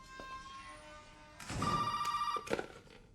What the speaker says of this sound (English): This is the second phone call we actually have to answer.